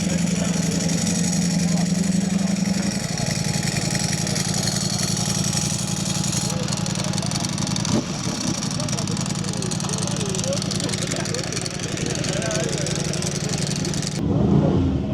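A Honda V4 SP2 motorcycle pulls away and rides off at an outdoor bike night meet, its steady engine note fading under crowd noise and nearby talk.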